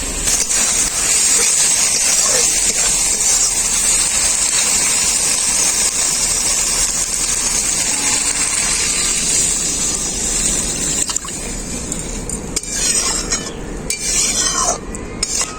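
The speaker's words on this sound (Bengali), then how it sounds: "এখন আমি এর মধ্যে পরিমাণ মতো জল দিয়ে দেবো" Water poured into a hot pan of tomato masala spiced with turmeric, then stirred. A steady, close sizzling hiss runs throughout with scraping stirring, easing slightly toward the end.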